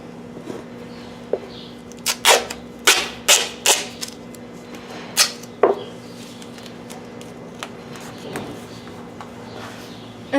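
Duct tape is torn from the roll and pressed over a hoof bandage during a hoof wrap, with a cluster of sharp ripping bursts in the middle, then quieter handling noises.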